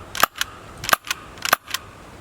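A very quiet modified airsoft pistol fires three times, each shot a sharp close snap followed by a lighter mechanical click, spaced roughly half a second apart with no talking.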